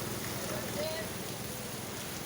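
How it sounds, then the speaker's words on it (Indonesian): Steady rain, not heavy, falling beside the flooding Laweyan river near a bridge, a continuous dense hiss with no clear voices over it. "Kondisinya masih hujan, sekalipun tidak begitu deras"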